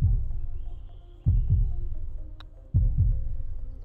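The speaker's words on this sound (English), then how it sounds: "Let's get the fucking heartbeat going." Heavy, low heartbeat thumps in a PGA 2K23 golf video game, a double-beat pulse repeating slowly and steadily with a faint hum underneath.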